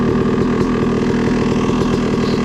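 A trail motorcycle rides up along an off-road OHV cycle trail in the woods, its engine a steady, loud drone that stays present throughout without a clear break.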